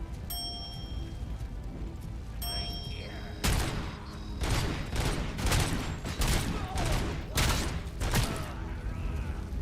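Pistol gunfire in the RoboCop: Rogue City video game, a quick string of loud, sharp shots in uneven bursts over a steady background hum, preceded by a few seconds of quieter game ambience.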